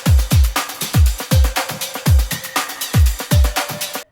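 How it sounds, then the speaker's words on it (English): A punchy breakbeat drum loop with deep booming kicks, a sub kick layered with a top kick, and crisp snares in a steady, syncopated rhythm, loud and up front with no voices. "In total the drums sound like this."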